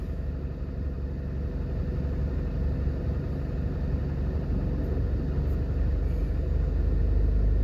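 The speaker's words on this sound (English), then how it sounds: "that will give an idea of what the traffic is like" Mid-afternoon road traffic in the New Kingston business district of Jamaica gives a steady low rumble of passing cars and idling engines, continuous and moderately loud with no voices.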